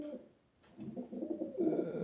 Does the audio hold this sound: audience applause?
no